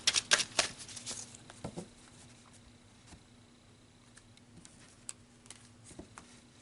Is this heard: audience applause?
no